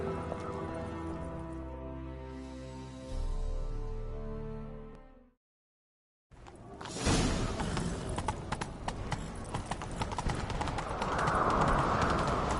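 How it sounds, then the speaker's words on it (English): Galloping hooves from a PS4 game horse, with a sustained musical tone fading to a brief silence, then a dense, loud run of clip-clop beats continuing to the end. "Grab a horse, we'll chase him down."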